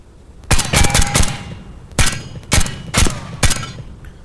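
Suppressed UZI firing in semi-auto in the Tactical Assault VR game, seven or eight sharp muffled shots, a quick cluster followed by evenly spaced single pops, loud and close.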